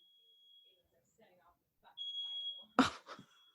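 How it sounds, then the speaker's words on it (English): A household smoke alarm sounds a thin, high electronic tone, faint at first and then a louder sustained beep, followed by a sharp knock and brief voices. "I've never heard our smoke alarm once in my life."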